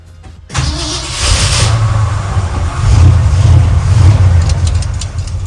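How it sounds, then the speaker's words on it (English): An old truck's engine cranks and catches abruptly, then settles into a loud, close, steady idle with slight swells in revs and no talking. "Starts right up, as these old trucks always do"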